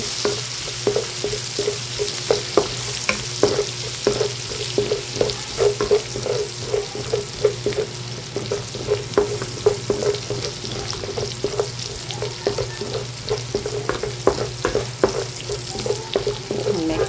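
Garlic and chili sauté in a hot pan, a loud continuous sizzle broken by a regular rhythm of spatula strokes scraping and tapping the metal, close up with no talking.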